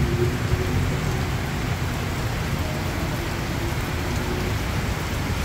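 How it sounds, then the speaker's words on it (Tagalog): A downpour roars continuously at a night market outside a Jollibee, thick rain hammering nearby surfaces with a deep, rumbling undertone and no voices. "Lakas ng ulan."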